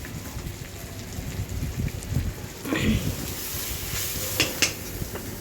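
Close, soft sizzling of food sautéing in a pan, with a few stirring scrapes and clinks of a utensil against the metal.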